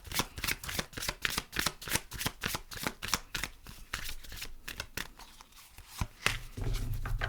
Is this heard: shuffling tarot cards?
yes